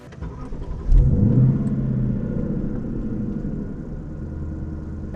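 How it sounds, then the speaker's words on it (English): A 2018 Lexus LC500 with a naturally aspirated V8 fires up and revs with a deep growling surge, then settles into a steady, rumbling drone while driving, with no talk over it. "So this is a naturally aspirated V8."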